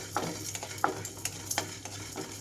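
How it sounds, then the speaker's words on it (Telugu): Cumin and coriander seeds fry in a pan with a soft, steady sizzle, and a utensil scrapes and taps against the metal a few times as they are stirred. "జీలకర్ర ధనియాలు కూడా వేసేసుకుంటున్నాను ఇవన్నీ కొంచెం వేగిన తర్వాత"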